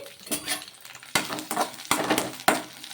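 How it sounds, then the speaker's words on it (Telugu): Green chili and onion pieces being stirred in a pan, with a few sharp utensil scrapes and clinks against the metal over a faint background, no talking. "కారానికి తగ్గట్టు పచ్చిమిర్చి అలాగే పొడుగ్గా కట్ చేసి పెట్టుకున్న ఆనియన్ ముక్కలు ఇవన్నీ కూడా వేసుకొని ఒకసారి బాగా కలిపేసుకోవాలి"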